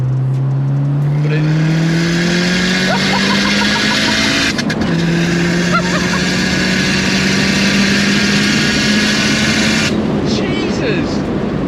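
A hand-built turbocharged Ford Fiesta ST170 with a wastegate venting out of the bonnet, idling loud and close, then revving up and easing back with a raspy, uneven engine note.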